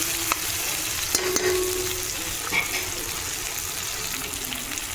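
Ginger paste frying in a pan for khichdi, a steady soft sizzle and crackle with a few brief clinks of a spoon stirring, close and fairly quiet, with no talking.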